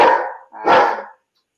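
A dog gives two quick, loud, close barks in succession, then falls silent.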